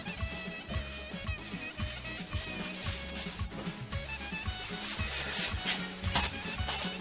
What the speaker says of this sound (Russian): присыпаем, втираем переворачиваем. С обратной стороны делаем то же самое.